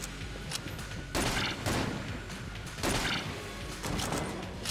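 Dense, sustained gunfire in the twin-stick shooter Enter the Gungeon, with bursts of shots and crashing impacts roughly every second, loud and layered over game background noise.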